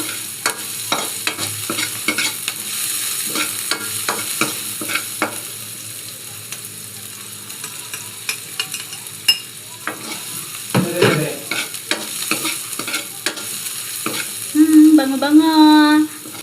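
Onions and garlic sauté in a hot pan for a Filipino ginisang talong, a steady sizzle broken by repeated spatula scrapes and stirs, with a louder hiss surge near the end.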